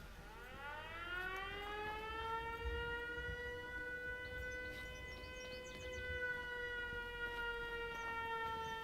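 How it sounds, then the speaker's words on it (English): In Fallout 4, a rising, wailing alarm siren set off by a trip laser winds up and holds a steady tone, sounding somewhat distant over low background rumble. "A little trip laser that sets off a siren"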